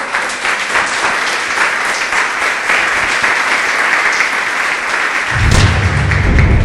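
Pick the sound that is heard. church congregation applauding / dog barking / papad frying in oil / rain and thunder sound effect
church congregation applauding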